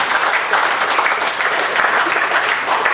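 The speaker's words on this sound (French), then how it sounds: "Et quand on vous applaudit" A crowd claps together in sustained, fairly loud applause, a dense patter of many hands lasting a few seconds.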